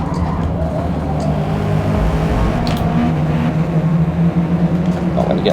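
A car engine held in second gear while cornering on the Kyalami track in Forza Motorsport, a loud, steady drone with a mix of talk over it.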